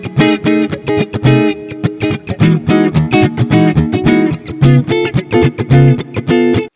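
Electric guitar with neck and bridge humbuckers combined, played in a funk style: loud, choppy, percussive rhythmic chords with crisp muted strums and short sustained stabs, a lively steady groove with no voices.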